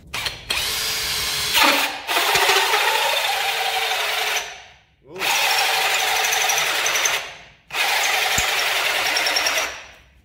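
An Ozito 18V 60Nm brushless hammer drill bores a 92mm hole, whining and grinding loudly in three long bursts separated by short pauses, with the motor bogging slightly under load.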